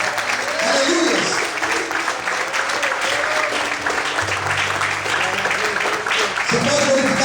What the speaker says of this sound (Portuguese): Em nome de Jesus, vamos gloriar, aplaudir e exaltar ao Senhor.